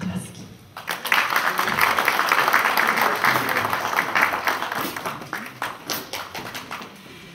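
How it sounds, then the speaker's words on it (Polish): Applause from the audience at a brass band concert breaks out after a second and holds as dense, close clapping for several seconds, then thins into scattered claps toward the end. "Bardzo proszę o klaski."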